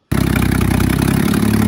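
A Nissan Skyline R31 fitted with a newly installed turbo idles loud and close, a steady rough, pulsing engine note starting abruptly and running on without talk.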